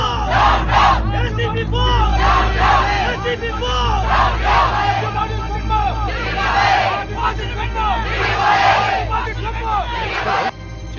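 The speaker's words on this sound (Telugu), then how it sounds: "వెనకాల జనం బోస్ డౌన్ డౌన్ అని అరుస్తూ ఇటే వస్తారనా?" A dense crowd shouts and chants slogans together, loud and continuous, with overlapping voices rising in waves over a low rumble of traffic or vehicles in a street scene.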